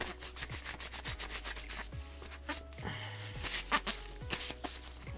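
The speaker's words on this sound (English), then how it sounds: "That's how hard I'm scrubbing my hand at this point." Rapid rubbing and scrubbing on the back of a hand to remove lipstick, a dense run of close, quick, raspy friction strokes that continues throughout.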